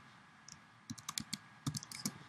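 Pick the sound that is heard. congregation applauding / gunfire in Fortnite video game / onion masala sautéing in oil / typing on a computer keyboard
typing on a computer keyboard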